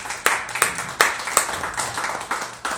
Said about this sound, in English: Let's give a round of applause to these gentlemen.